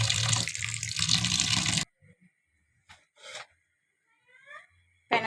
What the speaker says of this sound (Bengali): ঠান্ডা পানি দিয়ে ভালোভাবে ধুয়ে ঠান্ডা করে নেব।